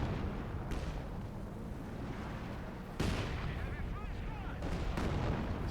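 Rocket artillery barrages in Company of Heroes 2, a sustained roar of launches and blasts with a sharp new salvo midway, dense battle noise throughout, with faint talk underneath.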